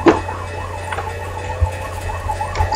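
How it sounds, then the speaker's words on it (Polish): A wavering alarm siren in the World War II shooter Medal of Honor: Pacific Assault, a faint rising-and-falling tone looping under game ambience with a few low thuds of distant gunfire or explosions. "Słyszę alarm."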